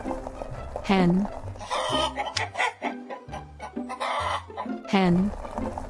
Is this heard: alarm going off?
no